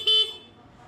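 A motorcycle horn at a motor shop gives one short, loud, nasal honk that stops sharply, followed by a quieter background with no voices.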